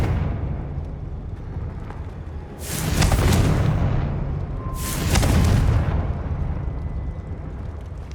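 Two heavy magical blasts from the Confringo spell in Hogwarts Legacy, each a loud booming burst with a rumbling tail, about two seconds apart over steady game ambience, with no talking.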